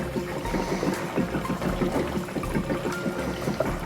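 Fuel glugs and trickles from a jerry can in a slow, uneven gurgling pour, close and continuous, with faint low background noise.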